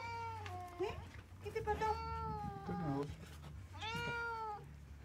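An injured, trapped kitten meows repeatedly, with several drawn-out, wavering cries close by over a low hum. A person speaks briefly between the meows.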